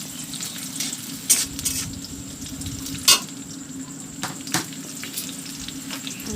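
Onions and curry leaves fry in oil in a pan for a South Indian style okra fry, a steady close sizzle broken by occasional sharp clinks and scrapes of a utensil against the pan.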